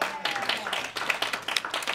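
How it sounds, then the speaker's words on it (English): Scattered clapping rises at a citizens' community meeting in East Cleveland, uneven and moderately loud, with individual claps standing out and voices murmuring through the room. "Give a round of applause to Brother Ernie Smith."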